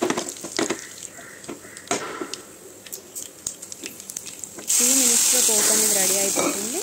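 Dried red chillies, seasoning seeds, garlic, curry leaves and asafoetida crackle and sizzle in hot oil, a steady loud frying hiss that swells suddenly partway through, with faint voices underneath.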